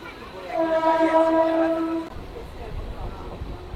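A local train on the Katwa to Ahmadpur line sounds its horn in a sustained harmonic blast lasting about a second and a half, followed by the low rumble of the moving carriages.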